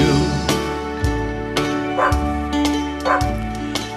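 A dog barks repeatedly in a steady rhythm within a song about a rescue dog, the woofs landing on the beat over guitar and backing music.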